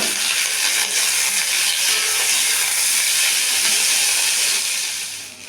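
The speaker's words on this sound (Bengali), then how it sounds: "আলুটা একটু ভেজে নেব।" Potatoes frying in a little oil along with onion, tomato and chilli: a loud, continuous broadband hiss of sizzling that holds steady and eases off slightly at the end, with no voices.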